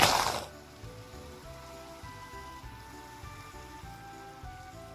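Rain falling in the Minecraft video game, a steady soft patter that carries on evenly after a brief louder burst at the start, alone with no talking.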